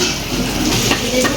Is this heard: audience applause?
no